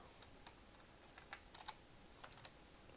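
Keys on a computer keyboard are pressed in quiet, irregular clusters of faint clicks, heard alone at low level.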